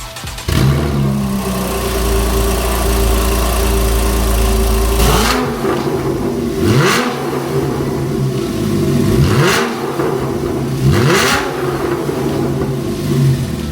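A Porsche 911 Carrera 4S with a new exhaust idles loudly, then its flat-six is blipped in four sharp revs that rise and fall back to a rumbling idle, recorded close with no talk.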